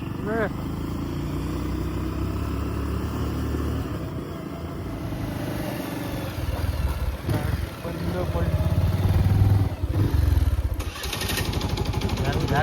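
A motorcycle engine runs steadily nearby, its low rumble rising as it revs, with people talking over it.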